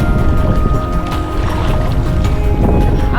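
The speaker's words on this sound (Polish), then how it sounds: "Trochę ciężko się wiosłuje, bo wiatr wieje w twarz." A small boat rowed on a lake on the Brda river route in Kashubia into a headwind, with close, continuous wind buffeting and water rushing along the hull, no voices.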